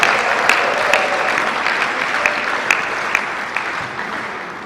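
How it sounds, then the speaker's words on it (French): An audience applauds steadily for an honoured woman, a dense even wash of many hands with a few sharper claps standing out, sustained for several seconds without talk. "je demande à Madame Mado de s'élever pour une fois, pour qu'elle soit applaudie."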